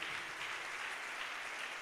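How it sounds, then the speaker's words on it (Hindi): An audience at a motivational talk claps steadily, a dense, even wash of applause that runs unbroken from start to end at a moderate distance. "कुछ लोग बड़े एक्साइटेड होकर ताली बजा रहे हैं"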